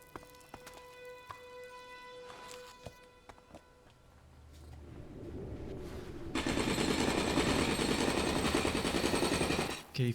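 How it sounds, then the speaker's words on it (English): Jackhammer weapon in the video game ELEX: faint tonal game sounds and scattered clicks first, then a rising rumble that bursts into a loud, continuous rapid-fire hammering roar for the last few seconds before cutting off. "I'm gonna use my jackhammer."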